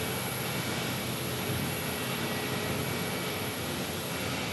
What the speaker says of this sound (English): JetBlue taxi off to the south side.